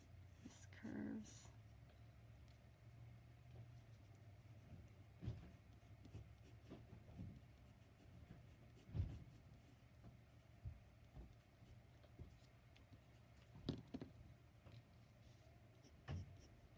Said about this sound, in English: I use a lighter pencil because it's a lot easier to erase